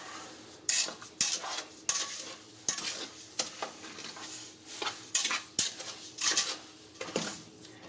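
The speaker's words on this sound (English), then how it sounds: "I'm gonna give this a quick stir." Sugar stirred into strawberries in a pot for jam, with a rhythmic series of spoon scrapes and clinks against the pot, each stroke distinct and close, no talking.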